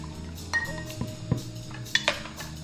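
A spoon stirs mead ingredients in a pot, giving a few light clinks and scrapes of metal against the container, close and fairly quiet with no talk.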